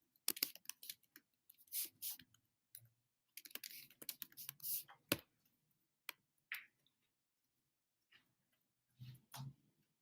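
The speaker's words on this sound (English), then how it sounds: "I can go ahead and type in it." Light, irregular typing on a computer keyboard into a text box, quiet clicks arriving in short uneven bursts with gaps between them.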